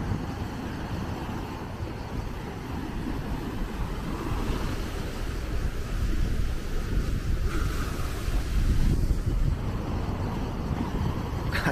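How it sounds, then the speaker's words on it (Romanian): Sea waves wash against the shore at sunrise on Brač island, heard as a continuous rolling surf with heavy wind buffeting the microphone throughout. "Și valurile la prima oră."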